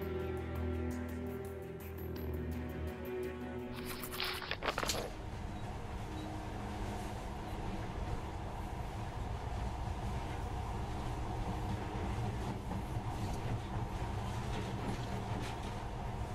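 A monorail train runs in the video game Metro Last Light, a steady low rumble and rolling noise that carries on throughout, with a brief burst of clatter early on and no talking.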